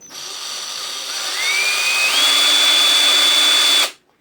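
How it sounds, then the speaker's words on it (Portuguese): An electric screwdriver in a woodworking shop whirs steadily, its pitch rising as it speeds up, then holds a high whine before cutting off abruptly. "Veja o exemplo da parafusadeira."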